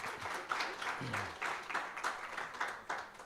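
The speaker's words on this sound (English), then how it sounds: "Round of applause." A formal dialogue audience gives a round of applause, soft and distant, with individual claps standing out in a loose rhythm and a few faint voices beneath.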